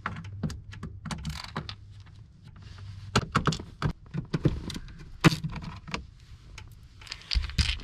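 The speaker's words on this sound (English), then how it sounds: "to remove the glove box, there's four Phillips head screws here." Phillips head screws are worked out of a glove box in a first-generation Cummins truck, giving close, irregular clicks, taps and small plastic knocks with short pauses between them.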